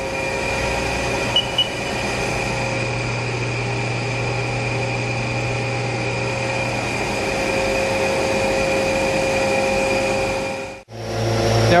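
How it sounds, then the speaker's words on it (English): A Haas SL 30 CNC turning center spins its spindle at 1500 RPM, a steady machine whine with tonal hums, holding evenly for several seconds before a brief drop and a shift in tone near the end. "Now we're running the spindle at 1500 RPM."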